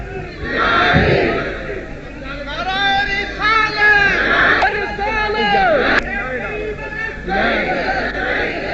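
An audience at a Sunni versus Wahabi religious debate shouts slogans together, loud massed voices rising and falling in chanted bursts with general crowd babble throughout.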